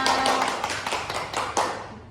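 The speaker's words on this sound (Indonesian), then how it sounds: "Tepuk tangan untuk kita semua." A small class clapping hands together in a classroom, a handful of sparse, uneven claps close by, fading out quickly.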